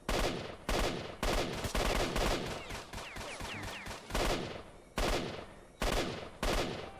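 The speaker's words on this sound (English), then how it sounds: "He's using a pistol." An enemy firing a pistol in the video game STALKER, a series of loud sharp gunshots spaced irregularly, several single cracks and a few close together, no voices.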